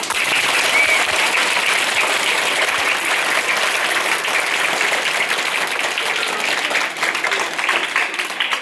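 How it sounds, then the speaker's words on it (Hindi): Children at a school event applauding loudly and continuously, a dense, sustained wash of clapping from a large group close by with no break. "बहुत ही उत्साहवर्धक तालियां आप लोग की"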